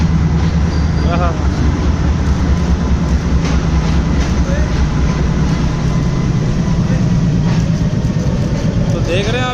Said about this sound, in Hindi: देख रहे हैं आप ये ट्रेन कैसी गुजर रही है, धड़ाधड़